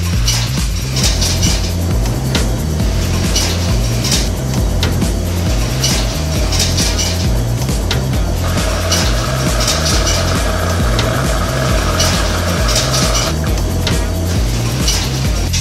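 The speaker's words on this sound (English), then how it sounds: "So your dryer is not making a very good noise." A laundromat clothes dryer with worn drum bearings rumbles steadily with rhythmic clanking and metallic rattles, as if something inside knocks and scrapes with each turn.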